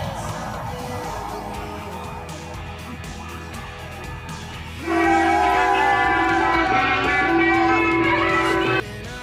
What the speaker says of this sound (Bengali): দেখো ট্রেন যাচ্ছে এখান থেকে